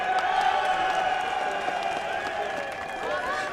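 A crowd cheers and applauds at the MotoGP podium ceremony at Silverstone, a steady wash of clapping and cheering heard from a distance, with high whistles and voices mixed in, holding level for several seconds.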